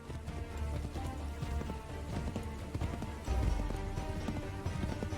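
Horse hooves gallop in a steady clip-clop rhythm through the video game Assassin's Creed III Remastered, close and continuous over a low rumbling game soundscape, louder toward the end, with no talking.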